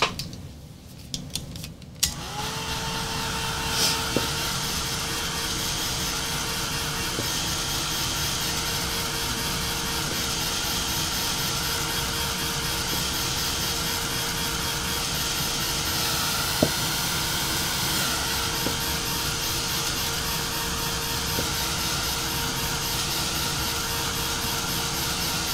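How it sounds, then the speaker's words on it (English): Heat gun blowing steadily to dry paint on a hand-carved wooden Santa, a continuous airy hiss with a faint whine that kicks on after a short quiet moment and holds at even loudness, with a few small clicks. "back to heat gun"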